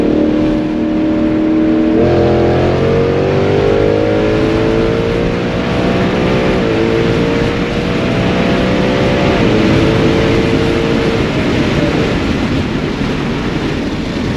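A car accelerates hard from a rolling start during a roll race. A loud engine roar climbs in pitch through several gear shifts under heavy wind buffeting, and no one speaks.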